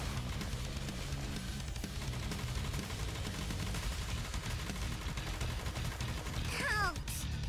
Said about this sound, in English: Commence bombardment.